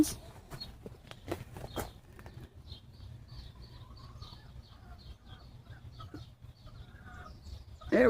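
Chickens cluck in soft, scattered bursts at a moderate distance, with footsteps and rustling close by, faint throughout.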